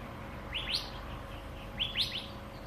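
A bird repeats a bright chirping call twice, each a quick cluster of rising notes a little over a second apart, fairly distant over a low steady background hum.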